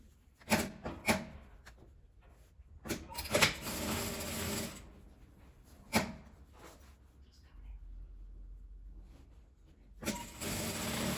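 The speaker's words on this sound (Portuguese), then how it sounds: "E vou costurar aqui do início até o final." A sewing machine stitches lining to fabric for a small, delicate ruffled zipper pouch, running in several short bursts separated by pauses and quiet handling.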